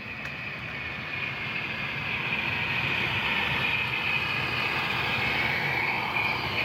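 A Scale Trains Rivet Counter Big Blow 8500 GTEL model turbine locomotive with LOKSound runs at top speed with its turbine sound off, giving a steady close rolling hum and whir with a faint high whine, continuous and without talk.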